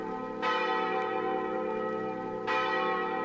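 Church bells of the Basilica of Guadalupe pealing at dawn, a sustained, resonant ringing with two fresh strikes swelling out of the lingering hum, moderately distant.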